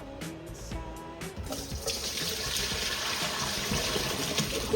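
Rinsed dandelions are tipped into a strainer: a few brief clatters and splashes at the start, then a steady run of draining water that fills the rest of the clip.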